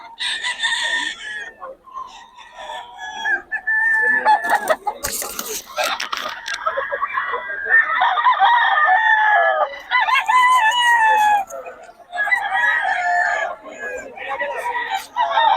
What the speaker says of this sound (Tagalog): Mga manok ni boss June, mga boss